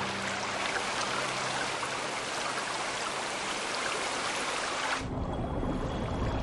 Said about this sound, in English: The downpour can be torrential.